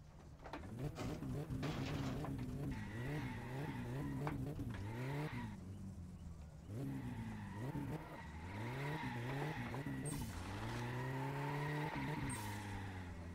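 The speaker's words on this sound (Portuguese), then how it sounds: "Uma aceleradinha, né, de leve" A car in My Summer Car, on an empty Sunday town road, revving up and accelerating in repeated rising engine sweeps, with tire skidding and squeal mixed in, loud and close throughout.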